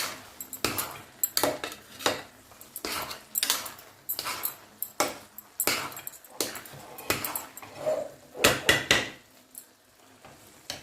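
Grated carrot halwa roasting in a pan, stirred with repeated scraping and clinking of a metal spoon in irregular bursts, close and fairly loud.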